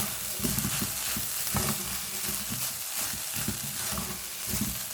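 Beetroot rice with butter is stirred in a frying pan, a steady loud sizzle under repeated scraping strokes of the spoon, close and continuous, no talking.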